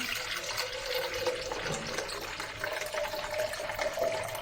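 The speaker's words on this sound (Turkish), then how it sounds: "4 litreye de 4 litre suya da 800 mililitre sirke koyacağım" Vinegar being poured into water for mixed pickles, a steady close liquid splash and trickle running without a break.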